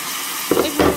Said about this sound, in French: tout de suite vous y ajoutez votre sauce